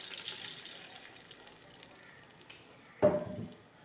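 Wheat daliya dry-roasting in a pan over low heat gives a quiet, steady hiss, and near the end a brief, louder scrape of stirring stands out.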